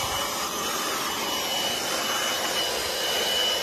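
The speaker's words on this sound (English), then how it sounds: "I'm going to use the same blower and blow out our electrical compartments around the service valves" Steady, loud, continuous air rush from a blower clearing out the electrical compartments around the service valves of a central AC unit, close and unbroken throughout.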